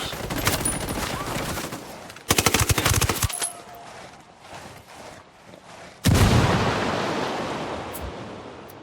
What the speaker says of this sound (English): Opening fire. Take cover.